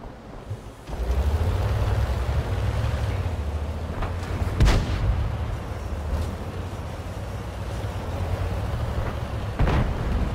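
A tank's main gun fires in World of Tanks over a steady low engine rumble, with a sharp boom near the middle and another toward the end, both moderately loud and unaccompanied by talk.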